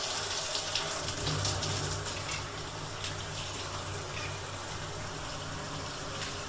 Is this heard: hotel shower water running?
yes